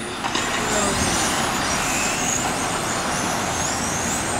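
Several 17.5-class radio-controlled touring cars race on a track, their electric motors whining in a loud, steady, continuous blur that holds throughout.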